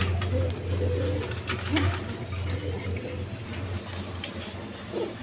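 A pair of black-laced shirting pigeons at a pigeon farm coo steadily in low, rolling phrases, with faint background noise throughout.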